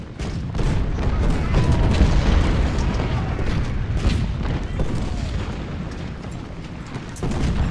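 Artillery cannons fire in a Civil War strategy game, Ultimate General: Civil War, during the battle of Mansfield, a dense run of overlapping booms and rumbling blasts, loud and continuous, with a voice speaking over it.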